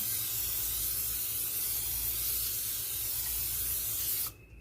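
A continuous loud hiss of aerosol cooking spray greasing a pan runs steadily for several seconds, then cuts off abruptly near the end.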